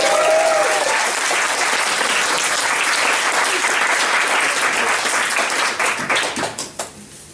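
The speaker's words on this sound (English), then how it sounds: "Can I have a round of applause for myself?" Comedy club audience claps for the comedian, a loud, dense round of applause that holds steady for several seconds, then breaks into scattered individual claps and fades out near the end.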